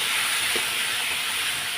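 Potatoes fry in a pan with salt and turmeric, giving a continuous bright sizzling hiss that holds steady and close throughout, with one soft low knock partway through.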